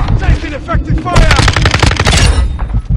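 Rapid automatic gunfire rattles in the Call of Duty video game, dense loud bursts of shots running nearly nonstop, with voices calling out under the clatter.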